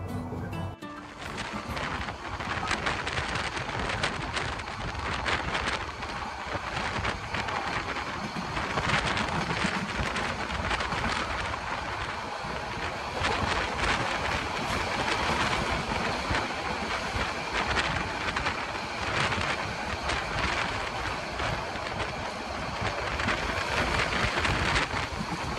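Sonar Bangla Express, a nonstop train from Dhaka to Chittagong, runs with a steady, loud rumble and rattle throughout, joined by broadband wind and rushing noise with no breaks.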